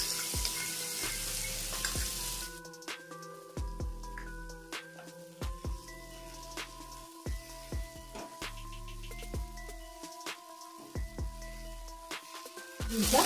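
Leftover roti noodles being stir-fried with soy sauce in a pan: a steady sizzle under repeated tapping and clattering of a utensil against the pan, close and without speech.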